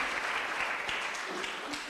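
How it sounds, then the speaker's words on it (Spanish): A church congregation bursts into strong, dense applause that stays loud and even for the whole brief moment, with no one speaking over it. "¿Cuántos le podemos dar un fuerte aplauso a Dios por eso?"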